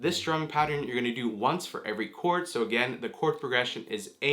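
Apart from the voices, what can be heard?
No everyday noises stand out.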